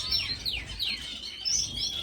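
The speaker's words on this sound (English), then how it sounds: "just listening to all the birds," Finches in an indoor bird room chirp and tweet with rapid bright overlapping calls, several birds close by and continuous over a soft low background hum.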